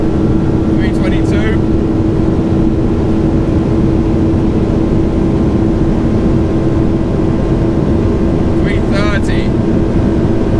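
An Audi R8 V10 Performance runs flat out near top speed, producing a steady, loud roar with heavy wind rush, while a voice calls out speed readings over it.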